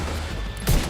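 Automatic weapon fire in the shooter game The Division 2, a short loud burst of shots erupting near the end of a second of low game ambience.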